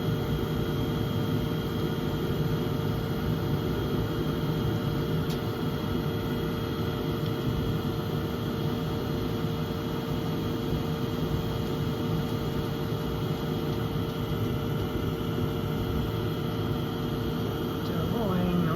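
Steady gas hiss streams from a home furnace burner, a constant broadband rush that stays even from start to finish with no breaks.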